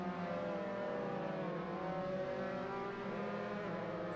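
Formula 3 race cars at Silverstone in a racing video game drone steadily with high engine tones holding and shifting slightly as they brake into a corner, continuous and close with no talk.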